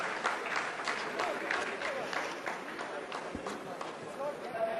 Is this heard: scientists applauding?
yes